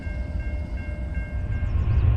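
A BNSF freight train hauling a Boeing 737 Max fuselage rolls past, a heavy, continuous low rumble with a faint tonal hum, loud and steady with no voices.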